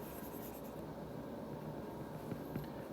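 Handwriting on a surface, steady soft scratching strokes with a few slightly louder touches, faint and close, with no talking.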